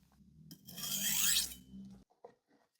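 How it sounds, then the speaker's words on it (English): A knife edge drawn lightly across a whetstone to take off the burr, giving a sustained raspy scraping stroke of about a second and a half, close and fairly loud, followed by a few faint brief scuffs. "Now I'll just gently remove the burr by just sharpening both sides"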